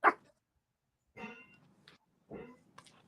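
A dog gives three short barks spaced about a second apart, the first sharper and louder, the later two softer with a whiny edge, close by in an otherwise quiet room.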